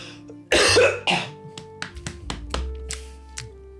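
A person sick with influenza A coughs: one harsh burst, then a second, followed by a string of short, lighter coughs and throat sounds, close and loud with no talk.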